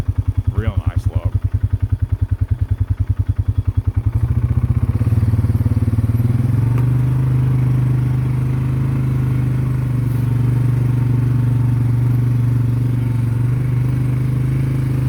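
An ATV engine chugs on a logging road, starting with a fast throbbing idle and then rising into a loud steady drone close by.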